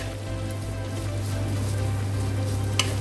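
Boiled, lightly salted chickpeas frying over a high flame in a pan, a steady, even sizzle holding at moderate loudness throughout with one small crackle near the end and no voices.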